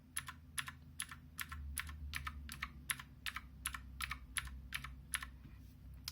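Full key presses on a Zero X08 mechanical keyboard without rubber rings: about fifteen sharp, clacky strokes in a steady rhythm, close and clear against a low background hum.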